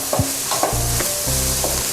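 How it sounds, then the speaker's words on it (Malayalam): Vegetables for a vegetable pulao being stirred as they fry in a pan, with scraping strokes of a spoon over a soft steady sizzle, close and moderately loud, with no voices. "ഒന്നുകൂടെ ഒന്ന് ഇളക്കി കൊടുക്കാം. നമ്മുടെ വെജിറ്റബിൾസ് എല്ലാം ചെറുതായിട്ട് വാടി വന്നിട്ടുണ്ട്."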